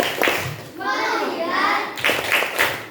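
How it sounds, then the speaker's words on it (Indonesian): Schoolchildren in an Indonesian classroom do a rhythmic focus clap, sharp grouped claps at the start and end, with their chanting voices in between. "ayo kita tepuk fokus dulu"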